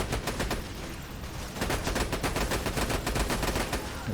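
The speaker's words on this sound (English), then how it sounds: "I think I can just get him here with the sniper" Rapid bursts of gunfire in Borderlands 2 during a raid on Digistruct Peak, sniper rifle shots cracking in dense succession with no pauses, loud and close throughout.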